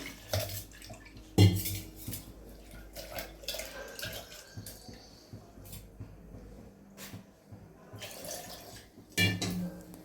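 Kitchen clatter from a pan being set down on a stove, with tamarind being rinsed in water while Telugu pappucharu is cooked. There are two sharp metallic knocks over a steady splashing and trickling wash, all close by.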